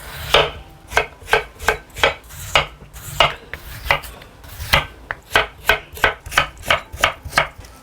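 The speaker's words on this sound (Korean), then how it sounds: "감자를 채 썰을게요" A knife julienning potatoes chops rapidly and steadily against a cutting board, crisp close-up strokes in an even rhythm, with no talking.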